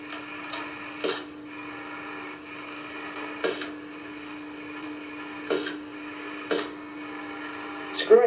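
Zebra ZERO force-controlled robot arm from 1989 moving between springs on a pallet during assembly: a steady motor whine with sharp periodic clicks and ticks, fairly close, with no one talking.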